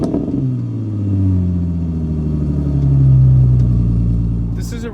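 The V6 engine of a 2007 Ford Mustang runs with a deep, smooth drone that slowly rises and falls in pitch like gentle revving, loud and close, ending with a brief burst of noise.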